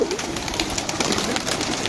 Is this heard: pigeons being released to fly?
yes